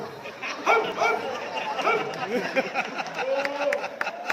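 A dog barking and yipping in short bursts amid lively voices in a Sindhi stage drama scene, with people talking over and between the barks.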